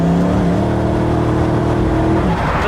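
A Koenigsegg Regera hypercar with a 5-litre V8 and 1500 horsepower, its engine droning loud and close at a steady high pitch before easing slightly near the end.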